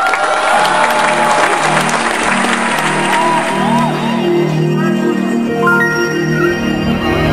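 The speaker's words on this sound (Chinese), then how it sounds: "所以大家给点掌声，" Audience applause with cheering and whoops at a stage concert in an animated comedy, a dense steady roar of clapping that runs the whole time under a sustained musical tone and a melody.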